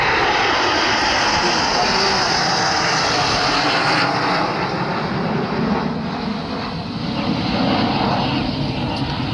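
Fixed-wing aircraft fly past in an air show, a loud, continuous propeller-engine roar that fills the whole span with only slight swells and dips.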